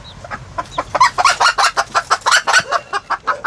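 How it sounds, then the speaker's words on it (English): Chickens with their little chicks clucking and peeping up close, a quick run of short, rhythmic calls that follow one after another, loud and clear with no talk. "It's little chicks from the chickens"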